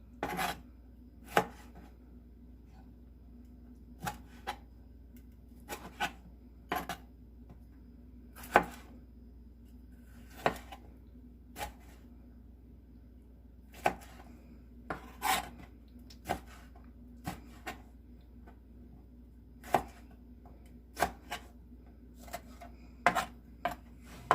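Vegetables being chopped with a knife on a board while preparing shrimp sinigang in tamarind soup base, irregular crisp cuts spaced a second or two apart over a low steady hum.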